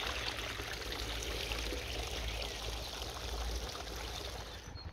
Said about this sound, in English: Water's still running